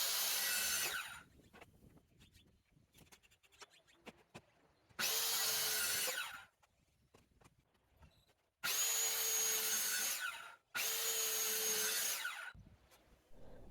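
Power saw cutting wooden pieces for a book box shelf: four loud, close bursts of a few seconds each of buzzing, whining cutting, separated by quieter handling knocks and clatter.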